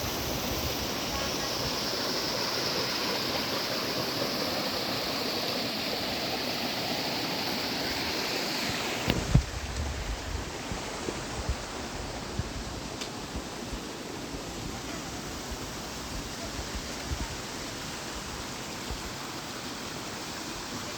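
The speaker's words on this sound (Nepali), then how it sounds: "यो चाहिँ स्पेसली हाम्रो महादेव झरना है।" The Mahadev waterfall in Udaipur pours in a constant broad rush. Partway through, the roar shifts to a slightly different tone, and a few faint knocks and clicks are scattered over it.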